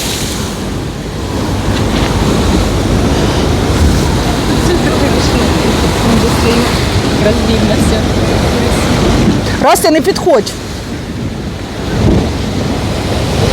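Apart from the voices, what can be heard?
sea waves breaking on shore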